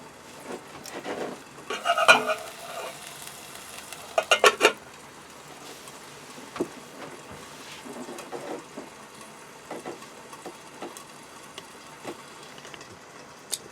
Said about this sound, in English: So that's still sizzling away.